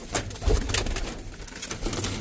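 Pigeons coo softly in a breeding loft, with low, throaty calls set against a rustling, noisy background at moderate distance.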